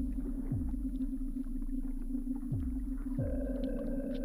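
Underwater ambience in the game Omori: a deep, constant low hum with a steady droning tone, plus a few descending whooshes and a faint higher tone entering near the end.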